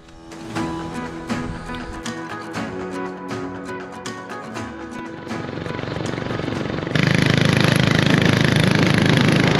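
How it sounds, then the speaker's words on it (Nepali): An overheated KTM Duke 250 motorcycle engine sputtering and stumbling as it fails to catch, with irregular, uneven firing bursts that build into a loud, steady roar toward the end. "बाइकले स्टार्टै लिदिन्न अनि ख्यार ख्यार ख्यार ख्यार गर्छ अनि बस्दिन्छ क्या"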